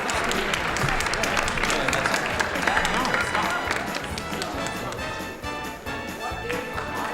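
An audience at a school Jeopardy game show claps in a dense, steady round of applause that fills the room and eases off slightly toward the end, with some voices mixed in.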